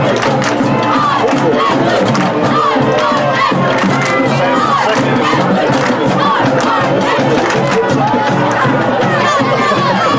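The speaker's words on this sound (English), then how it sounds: "really good crowd" A large crowd at a game shouts and cheers loudly and continuously, a dense wall of many voices with excited yells rising throughout.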